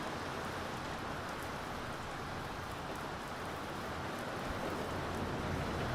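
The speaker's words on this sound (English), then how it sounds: "Sounds like rain." Steady, soft hiss of rain falling continuously in a submarine video game, even and unbroken, with no voices.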